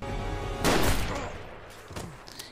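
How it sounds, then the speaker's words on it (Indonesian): Deer rifle gunshots from a film scene: one loud, close blast followed by two fainter, shorter reports about a second later. "Bumil perlu beberapa kali menembak Jack hingga mati karena dia hanya memakai senapan rusa"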